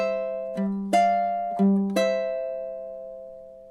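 Ukulele playing measure 4 of a blues, four plucked notes and chords spaced out in time, each left to ring and slowly fade, close and clean with no voice.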